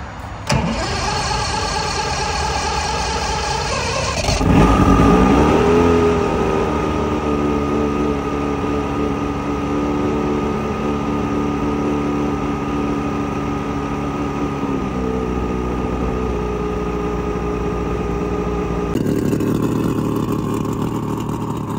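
An old Mercury L6 outboard motor, about 45 years old, on a Carolina Skiff J14 sputters, catches and roars to life, then settles into a steady, loud running drone that continues before shifting pitch near the end.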